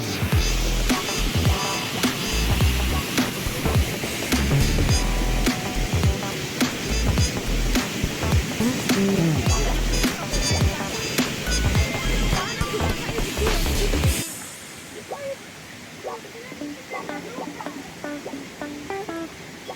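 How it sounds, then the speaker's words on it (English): A waterfall at a hiking spot near a cabin pours in a loud, steady broadband rush for most of the stretch. Toward the end it drops to a quieter, more distant wash. "And voila! There is the third waterfall."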